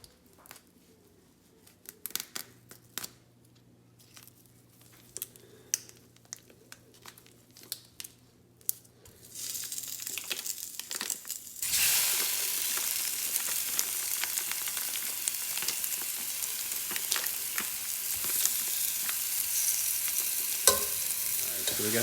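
Pork or turkey sausage in a preheated, sprayed pan: quiet scraping and stirring at first, then a loud, steady sizzle of frying that fills the rest with occasional clinks of the utensil.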